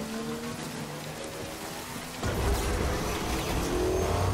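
Steady rain falls in the video game Death Stranding, a dense continuous hiss that thickens and grows louder partway through, with no voices over it.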